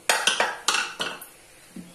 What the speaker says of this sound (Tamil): இப்ப நம்ம குக்கர் திறந்து பாக்கலாம்